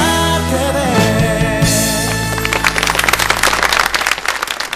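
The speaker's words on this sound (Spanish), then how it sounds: "¡Aplausos!" Music from a ballet number on a TV show fades out, and a burst of close studio audience applause builds and continues to the end.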